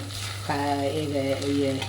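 Curry leaves, green chilli and ginger sautéing in a pan for tamarind rice, with a steady close sizzle under a low hum and a few tonal scraping or squeaking sounds from stirring.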